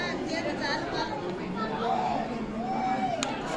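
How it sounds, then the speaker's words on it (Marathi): Dense crowd chatter at a packed Ram temple in Wani on a Tuesday, many voices merging into a steady, close hubbub with no pauses. "म्हणजे खूप गर्दी आता इथे."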